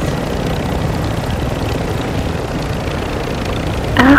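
Steady, loud rotor and engine drone of a helicopter in a video game, continuous throughout with a slight swell at the very end and no talking.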